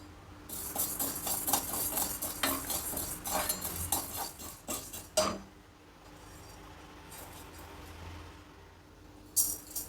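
Toor dal lentils dry-roasting in a pan, a spoon scraping and clinking against the metal in quick irregular strokes, then a pause before a few more stirs.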